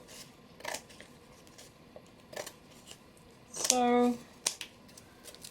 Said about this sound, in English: I'm now going to cut off the excess part of the canvas just using scissors.